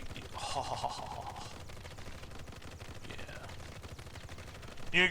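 Winter Soldier fires a weapon in the Marvel Heroes video game, rapid automatic bursts crackling at moderate level amid game effects, with a sharper louder shot near the end.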